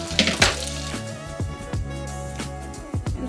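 Pasta tossed into a pan of hot garlic and chili oil, with several clattering knocks and scrapes of metal against the pan over a low steady hum.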